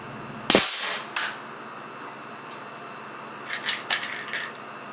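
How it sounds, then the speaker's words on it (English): Two sharp, loud metallic cracks of a .25 caliber air cannon firing steel BBs, followed a few seconds later by several quieter rattling impacts against a bathroom sink. "taking a few shots with the newly minted version 2 of the 25 caliber steel BB cannon"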